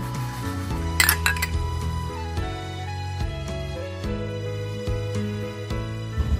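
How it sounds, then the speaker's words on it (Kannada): Dishes and utensils clink and clatter steadily, with a brief burst of running water near the start and scattered sharper knocks of pots. "ಶ್ರದ್ಧೆಯಿಂದ ಪಾತ್ರೆ ತೊಳಿತಾ ಇದ್ದಾರೆ"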